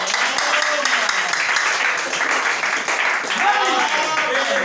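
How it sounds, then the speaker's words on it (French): Church congregation applauding again: dense, continuous clapping from a crowd, with voices and cheers rising over it and a brief vocal line near the end. "L'assemblée applaudit encore."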